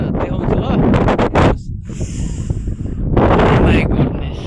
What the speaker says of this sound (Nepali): हावा चलिरहेछ, देखाउँछु ल।